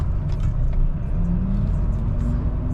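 A car engine rumbles low and steady with a gradually rising tone as it speeds up, close and continuous, with no voices.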